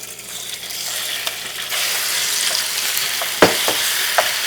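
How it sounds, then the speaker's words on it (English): Beef and broccoli with garlic searing in a hot wok, a loud, steady sizzle with occasional clanks and scrapes from stirring, close up and with no voices. "It really helps sear the beef."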